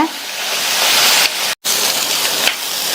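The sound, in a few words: brinjal sautéing on high flame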